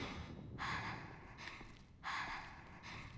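Heavy breathing from a character in the horror video game Fatal Frame: two loud, drawn-out breaths in a steady rhythm, close and alone over a low background hum.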